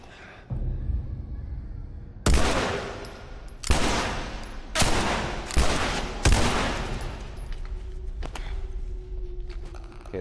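Gunshots from The Last of Us video game: several loud, sharp reports spaced a second or so apart, each ringing out briefly over a low game ambience.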